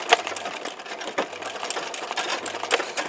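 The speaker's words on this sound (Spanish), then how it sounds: "la máquina de repente no quiere coser, quiere volar" An electric home sewing machine runs stitching simple fabric flowers, its rapid needle chatter buzzing steadily and close, with brief pauses in the motor hum.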